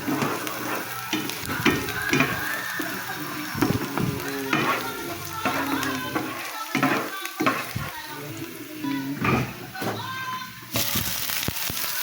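Five cloves of garlic and one white onion fry in a pan and are stirred to toast them, giving a continuous sizzle broken by repeated scraping and clacking strokes of the spoon, with brief voices in the background.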